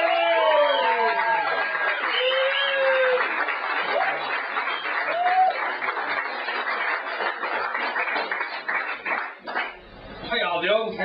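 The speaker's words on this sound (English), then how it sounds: "will you please give it up and give it loud for the fantastic Vinny Brown" Comedy club audience applauding and cheering as a comedian is brought on stage, lively clapping with whoops and shouts, a voice calling out over it, fading near the end.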